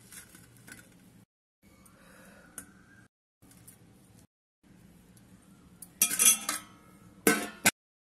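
Steamed idli lifted from the mould and moved onto a plate, soft scraping and muffled handling sounds followed by a few sharp metallic clinks and clatters of utensils near the end, close up with no talk.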